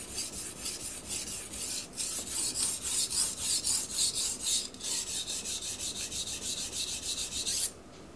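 A knife blade is drawn in long, full-length strokes across a Miyagoshi sharpening stone, giving a steady rhythmic rasping series of close, even scrapes that stops abruptly near the end.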